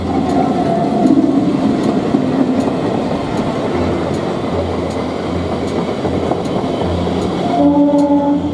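A Burdwan–Howrah local EMU train pulls into Gangpur station in eastern India, its steady rumble and wheel clatter filling the platform, with a few rhythmic track clicks and a brief tonal whine as it slows near the end.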